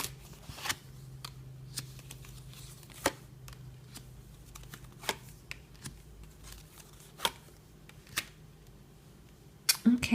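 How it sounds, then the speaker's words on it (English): Tarot cards are shuffled by hand in a quiet room, giving soft, scattered riffling clicks and sharper snaps at irregular intervals over a faint low hum. "let's give the cards a good shuffle on camera"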